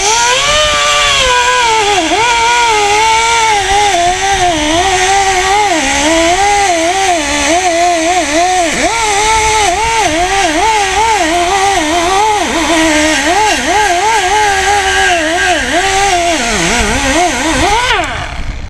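Angle grinder wheel scouring rust off a car fender on a GM6 under restoration, a loud continuous whining drone whose pitch wavers as the load changes, running steadily for the whole stretch before cutting off near the end.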